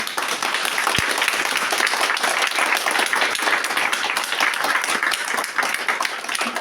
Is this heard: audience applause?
yes